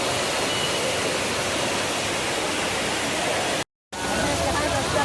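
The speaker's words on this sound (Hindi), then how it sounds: "ये देखो, ये ब्रिज के नीचे कितना पानी है" Heavy-rain floodwater pours under a bypass bridge in a waterlogged city area, producing a loud, continuous roar of rushing water. The roar cuts out for a split second near the end, then resumes at full strength.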